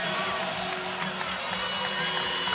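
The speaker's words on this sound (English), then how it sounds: "with the crowd being loud already, we haven't even tipped the ball off yet" Loud crowd at a high school girls basketball game in a gym before tip-off, a steady dense roar of voices with scattered cheers and whoops, continuous and close throughout.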